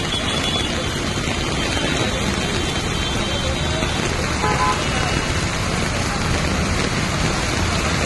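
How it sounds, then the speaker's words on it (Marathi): A bus pushes through a waterlogged street in Ghatkopar East, Mumbai, during a downpour. Its engine and wash of water blend into a constant loud roar of rain and traffic, with faint horn-like tones along the way. "ती बस जाण्याचा प्रयत्न करते त्या पाण्यामधून."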